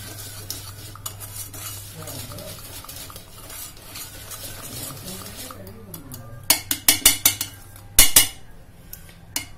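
A spoon stirring and mixing batter in a bowl, soft scraping swirls that turn into sharp clinking taps of metal against the bowl near the end, close and without talking.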